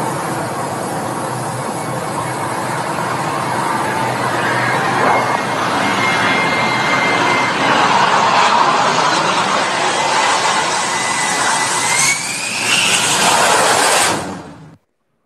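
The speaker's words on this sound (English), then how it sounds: "to listen to the pitch of the engine as it comes aboard." An F-35 jet engine roars steadily during a carrier landing that ends in a ramp strike, a loud broadband rush of noise with shifting pitch, heavy wind buffeting, and a rising whine near the end before cutting off abruptly.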